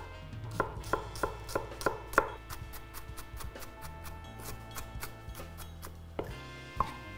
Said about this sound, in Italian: una cipolla, e la tritiamo più finemente possibile